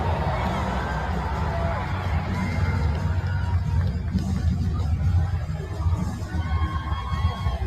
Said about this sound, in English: the crowd is reacting for him